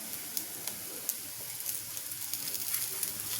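Aloo tikki fry in ghee on a pan, making a steady, fine crackling sizzle with small pops throughout, close and moderately quiet.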